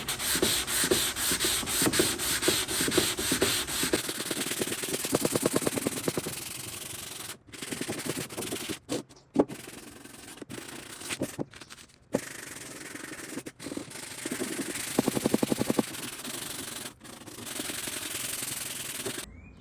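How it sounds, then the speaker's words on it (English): A vintage wooden buffet is sanded by hand in long, steady, rasping strokes. The scraping is close and continuous, broken by a few brief pauses before it resumes, and no one speaks. "I'm going to give it a really nice sand"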